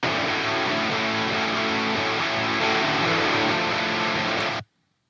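An electric guitar plays through two combined amp presets, a dense, continuous distorted wall of sound that holds steady for several seconds, then cuts off abruptly into silence.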